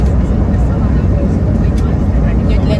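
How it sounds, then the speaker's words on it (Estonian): An airplane accelerating down the runway for takeoff gives a steady, loud, close engine roar that holds even throughout, with the sound of a cabin interior. "me hakkame lendama. Me võtame hoogu."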